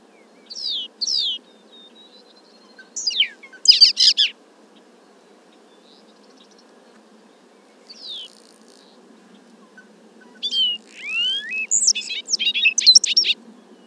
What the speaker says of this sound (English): A bobolink from 340 feet away.